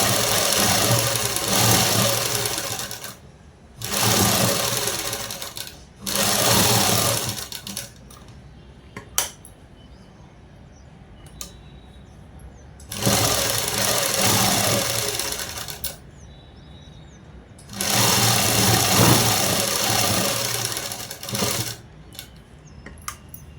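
A sewing machine stitches the lining of a dress in several bursts of steady running, each a few seconds long, with quiet pauses between them. No one speaks.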